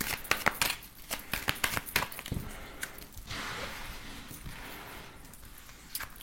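Tarot cards are shuffled by hand before a reading: a quick run of close riffling snaps, then softer sliding and rustling, with no speech.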